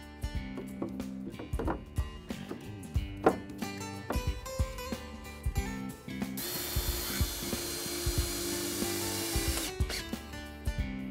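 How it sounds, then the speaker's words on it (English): Jigsaw cutting scrap out of southern pine boards for a potting table, starting with clicks and knocks of the tool being positioned, then a loud steady buzzing cut that runs several seconds before stopping, close up. "Use a jigsaw to cut out the scrap and fit the boards into place."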